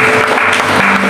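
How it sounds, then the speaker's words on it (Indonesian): Church congregation applauding during an apartment worship service in Jakarta, a dense, steady wash of clapping filling the whole moment with no pauses. "Berikan tepuk tangan."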